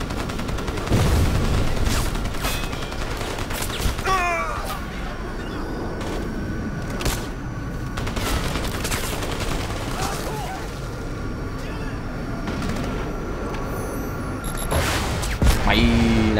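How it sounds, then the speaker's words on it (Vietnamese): Machine gun fire in the shooter game Crysis, sustained crackling bursts with sharp individual shots and booms running throughout, mixed with game effects and occasional speech. "súng máy"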